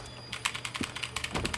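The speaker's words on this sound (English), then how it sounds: "I'm, like, typing in, like, the title." Quick run of computer keyboard keystrokes, close and fairly loud, in an uneven burst of taps with no talking.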